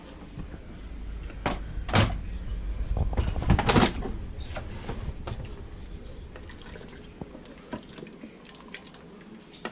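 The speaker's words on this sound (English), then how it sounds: "now that all the pressure has been released, we're going to open the top" An Instant Pot lid is opened after the pressure has been released, giving a couple of sharp clunks and a scrape of the metal lid, followed by faint dripping and rustling in a quiet kitchen.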